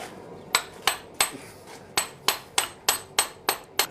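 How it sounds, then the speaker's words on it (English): A blacksmith hammers a metal head flat: ten sharp, ringing hammer strikes on metal, close and loud, in a fairly steady rhythm with short decaying rings between blows and no speech. "It means being hit with a hammer."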